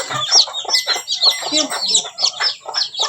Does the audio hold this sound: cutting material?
no